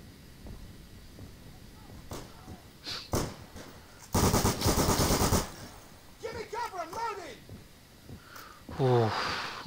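Gunfire in the World War II shooter Day of Infamy, with sharp scattered shots and a sustained loud automatic burst in the middle, mixed with in-game voices and effects, moderately near.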